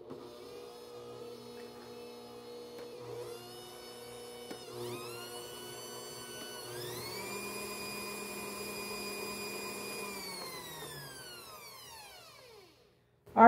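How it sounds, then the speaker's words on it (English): An electric mixer beats peanut butter cookie dough, its motor whine climbing in pitch as it speeds up, holding a steady high hum, then winding down to a stop near the end. "I will turn the volume down when I'm running the mixer just because it's a really annoying sound."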